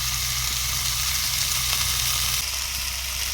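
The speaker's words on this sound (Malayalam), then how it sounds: "കുറച്ച് വെളിച്ചെണ്ണ ഇങ്ങനെ ഒഴിച്ചു കൊടുക്കണം." Coconut oil poured over fish frying on banana leaf in a pan, a loud, steady, close sizzle that holds throughout with slight shifts in intensity and no speech.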